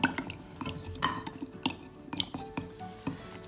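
Chocolate stirred into warm milk, heard as a run of light clinks and scrapes of a utensil against a mug or pot, irregular and close, without speech.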